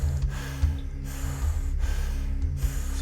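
Deep, forceful breaths are drawn in and released during a breathwork session, about four close, airy cycles in a steady rhythm.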